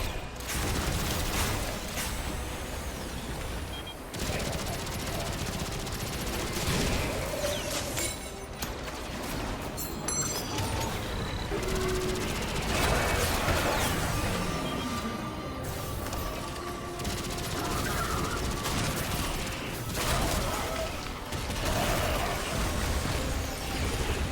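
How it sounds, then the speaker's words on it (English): Sustained automatic fire from a machine gun in the video game Destiny 2, a dense steady stream of shots with clattering mechanical effects, loud and continuous throughout. "This machine gun might end up being pretty good for me playing solo."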